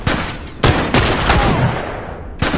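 Loud, sharp gunshots from a scoped rifle in the video game The Last of Us, several spaced single cracks with reverberant tails, close and dominant with no talk over them.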